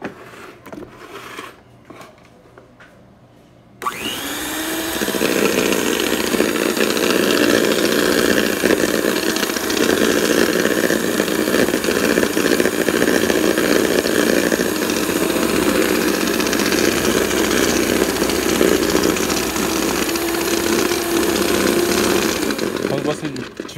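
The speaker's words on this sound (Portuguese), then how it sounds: "Agora a gente vai passar na batedeira." An electric stand mixer whirs loudly and steadily, shredding hot, deboned cooked chicken for a chicken lasagna; after a few quiet seconds the motor starts abruptly and runs at a constant, close drone to the end.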